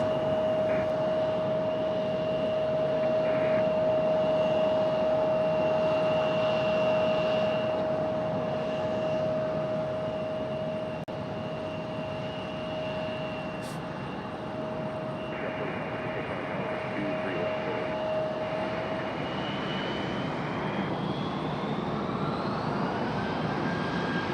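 Embraer E175 jet airliner passing at RDU Raleigh-Durham airport, a sustained broad engine roar with a steady high whine running through it, swelling and easing slightly as it goes by.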